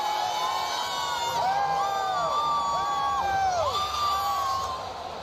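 Stadium crowd at an Oklahoma vs Texas college football game cheering and whooping, a dense, sustained roar with shrill rising shouts and whistles rippling through it, loud and steady before easing slightly at the end.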